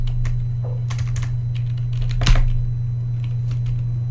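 HTML code being typed on a computer keyboard, a steady run of close key clicks with one louder keystroke midway, over a constant low electrical hum.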